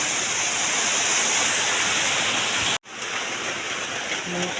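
Steady heavy rain pouring down in a dense continuous hiss, briefly cutting out for a moment before resuming just as loud.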